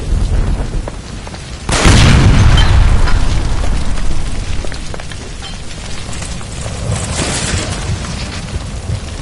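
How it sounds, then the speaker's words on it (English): A gas line explodes after being shot in a film scene set by a stove, a sudden loud boom bursting in and then rolling and crackling as it slowly decays. "Shoot the gas line, Cole, we're out of here!"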